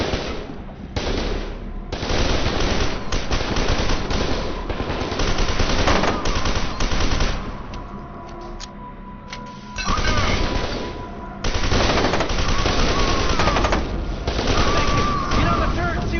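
Sustained gunfire in the game FEAR 2, loud and close: dense rattling automatic bursts with booming impacts, pausing briefly before resuming, while voices speak over the combat.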